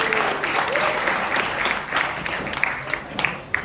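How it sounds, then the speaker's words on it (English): Applause from a group of hula lesson participants at a Hawaiian village cultural center on O'ahu, steady dense clapping that fills the moment and tapers slightly toward the end, with faint voices mixed in. "And give yourself a round of applause."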